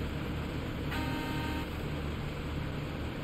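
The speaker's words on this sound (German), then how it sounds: "Oh, eine schöne Hupe stimmt, was der Six hat." A truck in SnowRunner sounds its horn in a single tooting blast of about two thirds of a second, rising clearly over the low idling engine.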